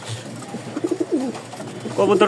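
Racing pigeons coo in short, close, warbling bursts at a pigeon farm, with people talking over and between the calls.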